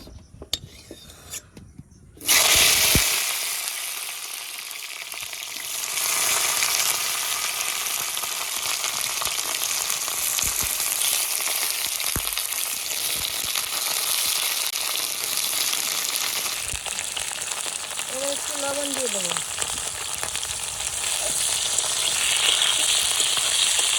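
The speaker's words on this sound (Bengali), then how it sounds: "তেল গরম হয়ে গেছে এবার ভেন্ডিগুলো দিয়ে দেবো" Okra dropped into hot oil, a loud sudden sizzle bursting in after a few quiet seconds and then holding as a strong, steady fry close by, with faint utensil clinks and a short voice near the end.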